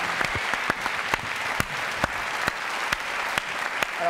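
A television studio audience applauds a guest, Mr. Baumgart: sustained dense clapping with a few sharper individual claps standing out at a steady rhythm, close and fairly loud throughout.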